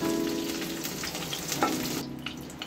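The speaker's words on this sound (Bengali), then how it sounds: "এবার ফুলকপিগুলো আমি টুকরো করে কেটে নিয়েছি, এগুলো তেলের মধ্যে ছেড়ে দেবো" Cut cauliflower pieces fry in hot oil with a close, continuous sizzle and bubbling crackle, occasional stirring clinks, and the sizzle easing toward the end.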